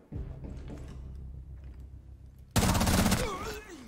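Gunfire from the operator Twitch's weapon in Rainbow Six Siege, a sudden loud burst of rapid shots cutting in after quieter game noise and lasting about a second before fading.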